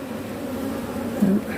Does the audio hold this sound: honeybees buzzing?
yes